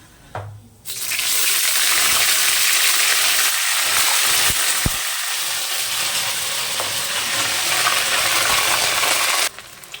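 Ginger paste hits hot oil left over from frying paneer, setting off a loud, steady sizzle that starts abruptly and holds evenly close up before cutting off near the end.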